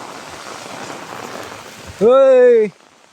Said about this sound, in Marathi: पाऊस मला भिजवून टाकणार आहे एवढं मात्र नक्की